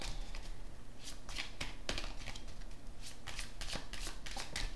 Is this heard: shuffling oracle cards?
yes